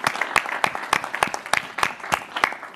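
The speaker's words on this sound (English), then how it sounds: "a round of applause for our fantastic Policy Roundtable" Audience at a policy roundtable discussion applauding, with close, fairly loud and irregular individual claps forming a brief, uneven patter.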